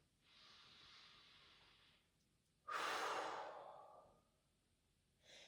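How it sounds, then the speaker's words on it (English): A slow, deep breath drawn in and let out in a quiet room during a calm strength-training session, with a soft steady inhale followed by a louder, longer exhale, then the start of another breath. "One more deep breath in and out."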